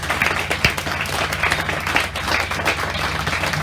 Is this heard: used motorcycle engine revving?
no